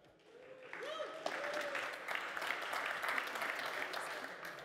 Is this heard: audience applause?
yes